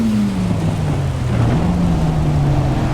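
Heavy rain hisses steadily and loudly at Imola in Assetto Corsa Evo, blended with a low, droning race-car engine tone that dips slightly in pitch.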